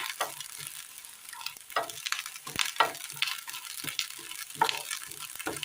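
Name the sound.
coconut frying in a pan for payasam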